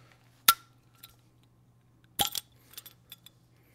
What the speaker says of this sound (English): The sound of the Grolsch hinge unhinging.